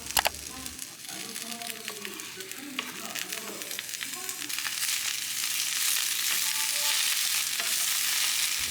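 Vegetables stir frying in olive oil in a pan, a broad steady sizzle that grows louder and denser partway through, with a voice speaking over the first half.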